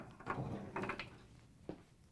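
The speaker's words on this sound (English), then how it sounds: "Now we can take the dryer drum out." Faint metallic clunks and scrapes sound as the drum is lifted out of an LG/Kenmore clothes dryer, with a few soft knocks spaced over two seconds in a quiet room.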